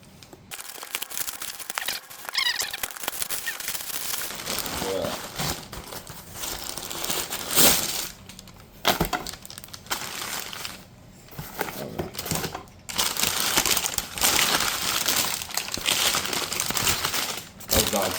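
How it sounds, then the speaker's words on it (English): Cardboard of a RadioShack product box being torn open by hand, with loud ripping, crinkling and crushing bursts running nearly throughout, broken by a few short pauses. "Look what I'm doing to this box. Just tearing it out. I'm just tearing it open."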